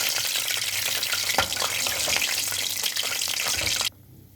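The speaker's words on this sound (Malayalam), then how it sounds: "തിളച്ച ഈ എണ്ണയിലങ്ങ് ഇടുന്നു." A rusk-crumb coated cutlet sizzles in boiling oil, a steady loud hissing fry that continues for about four seconds with a few louder crackles, then cuts off abruptly.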